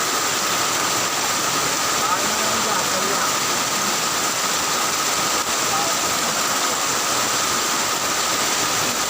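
A downpour from a heavy thunderstorm keeps up a constant, loud hiss and roar of water, steady from start to end, without any talking.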